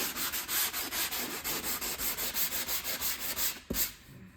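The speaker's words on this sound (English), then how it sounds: "We're just going to sand it so it's smooth." Sandpaper rubbing over dried joint compound on a drywall patch, a steady run of close, rhythmic back-and-forth scrubbing strokes that stop briefly near the end.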